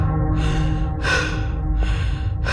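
A character in a horror video game breathes heavily: loud, close, rhythmic breaths, about four in quick succession, over a low droning background.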